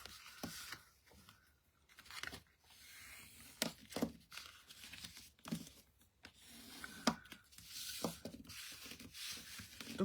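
Bone folder pressing and scoring fold lines into card stock for a Stampin' Up! window card, a run of short scraping, crinkling strokes close by, separated by pauses.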